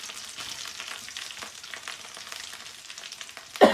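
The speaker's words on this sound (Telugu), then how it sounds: "కరివేపాకు కూడా వేసుకొని కొద్దిగా వేగనిద్దాం" Curry leaves and ground cumin, pepper and coriander spices fry in hot oil, a steady close sizzle and crackle that runs throughout, with a sharp clatter at the very end.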